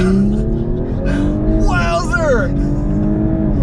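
A 2020 Audi S4 with a turbo V6 launches hard under launch control, its engine droning with boosted acceleration while a person in the cabin exclaims over it.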